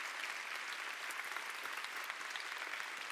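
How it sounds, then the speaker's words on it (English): An audience at a Butler University convocation claps in a steady, dense round of applause that stays even and slightly distant throughout the three seconds, with no talking over it. "let's give her a big round of applause to make her feel good"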